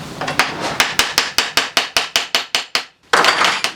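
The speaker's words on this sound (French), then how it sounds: "je vais essayer de faire sauter l'écrou de celui-ci là." A hammer strikes repeatedly to loosen a nut on a 1996 Yamaha YZ 250 motocross bike, with about fifteen loud, close, evenly spaced metallic blows that speed up slightly and end in a brief pause and a final clatter.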